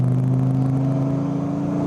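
A Dodge Viper engine pulls hard in fourth gear at around 2,500 rpm, a loud, deep, steady droning rumble heard from inside the car, continuous throughout with no speech.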